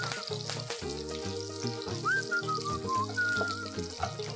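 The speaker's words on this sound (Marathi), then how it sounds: "राई तडतडू देऊया. आता घालूया कढीपत्ता." Mustard seeds and curry leaves splutter and crackle in hot oil for a South Indian tomato chutney, with a faint sizzle sitting under louder tonal background music.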